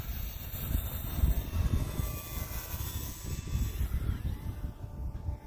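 An Arrows Husky 1800mm RC airplane on a 6S battery and skis drones past at full throttle, its buzzing motor loud and continuous, shifting in pitch as it passes.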